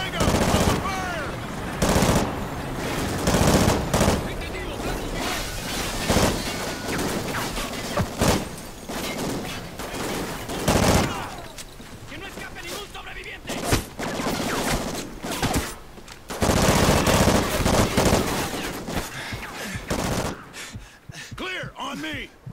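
Sustained machine gun fire in the first-person shooter Call of Duty: Ghosts, with loud repeated bursts and rattling volleys throughout, mixed with other battle noise and shouted voices.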